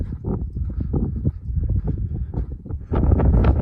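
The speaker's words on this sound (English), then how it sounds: "Very windy." Steady wind in a Utah canyon buffets the microphone with low rumbling gusts that swell louder toward the end; no voices.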